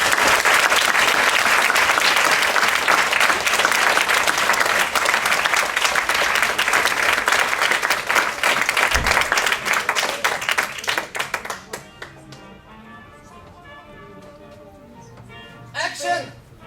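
Theatre audience applauding loudly and steadily for about eleven seconds, then the clapping thins out and fades to scattered claps and quiet room sound.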